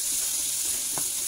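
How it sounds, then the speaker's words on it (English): Vegetables frying in oil while being stirred, for a lamb chop dish: a steady, bright hiss of sizzling throughout with a soft stirring knock near the end, no voices. "Fry it, stir it well, so make sure the vegetables get some oil and cook."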